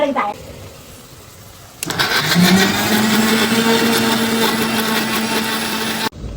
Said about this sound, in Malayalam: മോളിന്റെ ആ ഐശു മിക്സി കുത്തിയിട്ടുണ്ട്